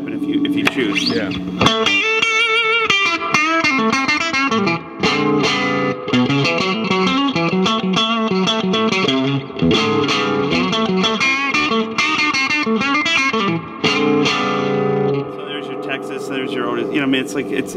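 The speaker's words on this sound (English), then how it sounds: "I like the middle pickup only because it's a difference" A 1955 Fender Stratocaster on its middle pickup, with a bright, slightly quacky tone, plays chordal blues phrases and licks, sustained and fairly loud throughout.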